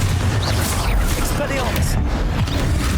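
A Confringo fire-blast spell cast in the Hogwarts Legacy video game, a dense booming burst spread across the moment amid a busy clash of other spell effects and shouted incantations.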